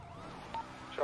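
A police car siren passing in a video game, a faint wailing sweep rising and falling briefly under a voice.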